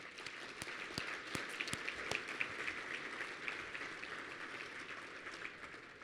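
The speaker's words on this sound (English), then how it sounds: "So let's applaud all the small businesses here as well." An audience at a Chattanooga Area Chamber business outlook event applauds local small businesses, with steady, moderately distant clapping and a few sharper individual claps standing out.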